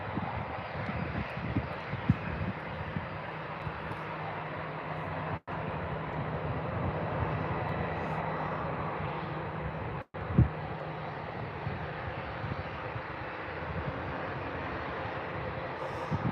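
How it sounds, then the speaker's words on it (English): An EasyJet Airbus A320 taxiing out at Birmingham airport, its steady jet engine roar holding at a moderate distance, broad and continuous with no voices. "Got your EasyJet now on its way out."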